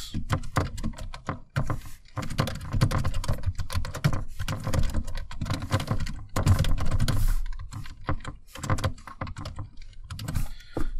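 Fast, close clatter of keys on a computer keyboard while code is typed, in uneven bursts with short pauses throughout.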